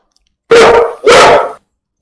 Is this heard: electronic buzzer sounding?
no